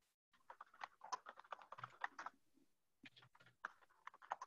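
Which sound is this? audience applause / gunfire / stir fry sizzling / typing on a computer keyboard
typing on a computer keyboard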